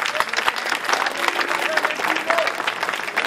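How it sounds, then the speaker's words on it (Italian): Audience applause at an evening outdoor music event, a steady dense patter of clapping from a crowd lasting throughout, with faint tonal traces of voices or music mixed in. "Con un applauso da te."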